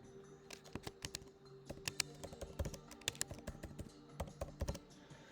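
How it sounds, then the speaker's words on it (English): Rapid, uneven keystrokes clatter on a computer keyboard, close and fairly quiet, with short pauses between bursts of typing. "I'm going to type out the word Nike here."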